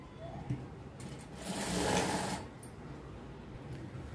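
Sewing machine running a straight seam on a long frock, a faint steady whir that swells briefly in the middle and then settles back.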